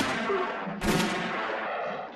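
A single loud gunshot rings out in a 1966 western film, The Good, the Bad and the Ugly, a sharp blast standing out near the middle of a dense, busy soundtrack with no talk over it.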